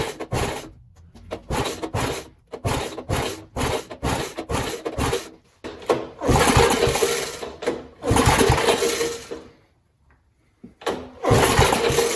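A seized 1974 Toro small engine being pull-started with the choke on sounds as a run of repeated rough cranking bursts, then a few longer sputtering catches that die out, with a short silent pause before another attempt.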